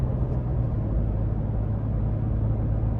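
A 2024 Ford Expedition King Ranch with a turbo engine accelerates, heard from inside the cabin as a steady low rumble and road roar that stays even throughout.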